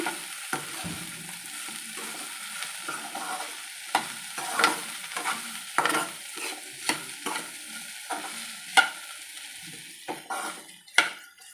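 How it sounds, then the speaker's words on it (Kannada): Okra frying in a pan, stirred steadily so the spatula gives repeated scraping strokes over a continuous soft sizzle, close by, with no talking. "ಇದು ಕಂಪ್ಲೀಟ್ ಕಂಪ್ಲೀಟಾಗಿ ಬೆಂಡೆಕಾಯಿ ಫ್ರೈ ಆಗ್ಯಾವ"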